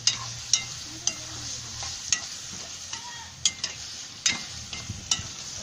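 A spoon stirs a chicken stew with dumplings, banana, yam and sweet potato in a pot, making repeated scraping knocks at an irregular, roughly half-second-to-one-second pace over a soft, low simmering sizzle.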